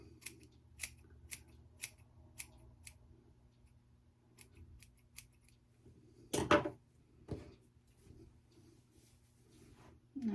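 Scissors trimming hair, a string of crisp, quiet snips in a regular rhythm, then a pause and a couple of louder, closer cuts with light rustling, all faint and near.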